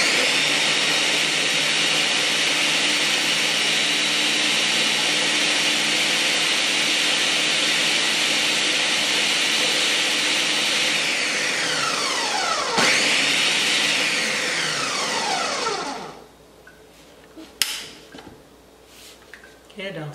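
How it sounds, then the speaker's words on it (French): An electric blender whirs loudly and steadily while blending chili peppers and seasoning, then winds down and cuts off near the end, leaving a few clicks and handling knocks. "Je vais encore aller blender pour les piments et tout le reste."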